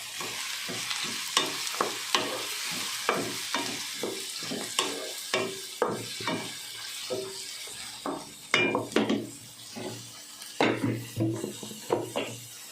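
Tomatoes fry in a pan with a little salt while a spoon stirs them in quick, repeated scraping strokes, each stroke a sharp swish over a steady close sizzle.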